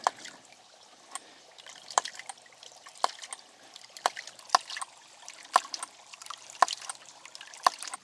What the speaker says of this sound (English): Here's the water out of the delivery pipe. You can see it's not a huge flow